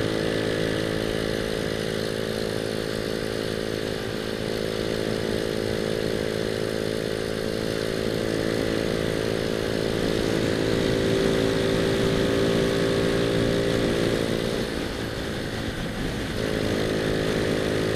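A motorcycle engine revs hard in fourth gear while riding, giving a loud, continuous buzzing drone with steady harmonics and wind rush. It swells slightly toward the end.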